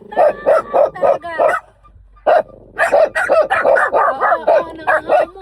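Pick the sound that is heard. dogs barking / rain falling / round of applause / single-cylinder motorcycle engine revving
dogs barking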